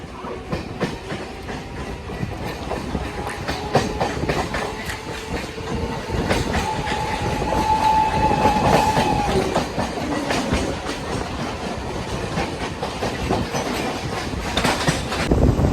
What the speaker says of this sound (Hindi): हमारी ट्रेन ने कुछ स्पीड पकड़ी है यार